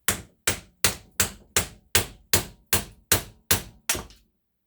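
Eleven evenly spaced hammer blows strike brass and copper scrap salvaged from a hot water heater, each a sharp, close metallic knock with a quick decay, landing at a steady rhythm with no talk.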